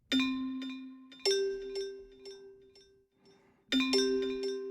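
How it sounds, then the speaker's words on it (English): Three bright tubular bell strikes from a SoundFont player ring out, each followed by a long shimmering decay, with a softer lower tone sounding between them. "I'm going to choose another instrument, for example, this tubular bell."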